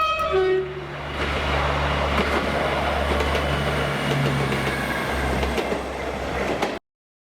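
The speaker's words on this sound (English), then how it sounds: "A train for Okehampton passes by." A passenger train bound for Okehampton on a Devon branch line passes by, opening with a horn blast and then a sustained rumble and clatter of wheels on rail before cutting off abruptly.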